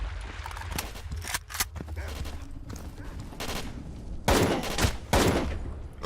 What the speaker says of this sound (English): someone is shooting near me